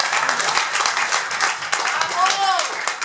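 A live audience gives a warm round of clapping for a musician, a dense, continuous patter of hands with a voice or two calling out over it.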